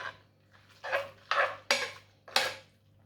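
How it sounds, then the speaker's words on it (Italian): A utensil stirs spaghetti with melting cheese in a pan, scraping and clinking in four or five rhythmic strokes about half a second apart, close up over a faint steady hum. "Andiamo a mescolare finché non si sarà sciolto completamente."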